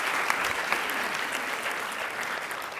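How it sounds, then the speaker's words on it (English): Lecture audience at a talk on gelation and heat transfer clapping, a sustained even wash of many hands with a few sharper claps standing out. "Yeah, you can clap"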